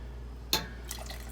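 Water is poured into a pot of simmering homemade chili in one short splash, followed by a few faint drips and small liquid sounds.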